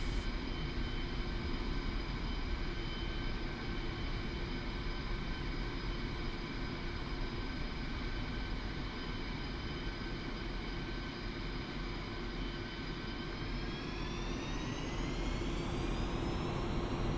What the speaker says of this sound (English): gently pull back on the controller and allow the aircraft to fly itself off the runway